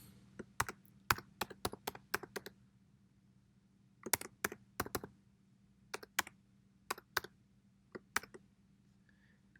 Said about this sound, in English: I'm going to go ahead and type it in.